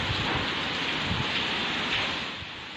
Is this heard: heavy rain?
yes